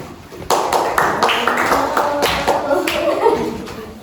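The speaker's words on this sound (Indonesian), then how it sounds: "beri tepuk tangan deh" Students in a classroom clap their hands in a quick rhythmic pattern of distinct sharp claps, close and fairly loud, with no talk.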